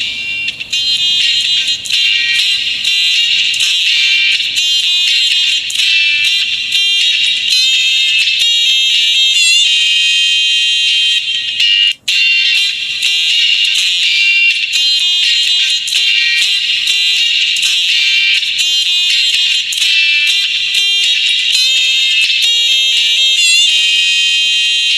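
A song played through a DS18 PRO TW720L RGB car audio super tweeter, with only its bright, thin treble coming through as a steady, loud, shrill wash of music and almost no bass, with a brief dropout midway.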